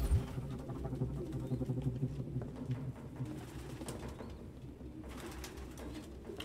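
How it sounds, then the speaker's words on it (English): Many pigeons coo in a room in Detroit: Become Human, a dense, continuous throaty murmur close by, with some faint shuffling and a couple of soft clicks mixed in. "No human could live with all these fucking pigeons."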